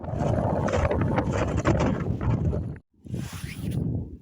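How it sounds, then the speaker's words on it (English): Strong wind buffets the microphone on an exposed hilltop footpath near Sharp Haw and Rough Haw in December, a loud roaring gust that drops out briefly before another blast returns. "It's a lot windier now than before."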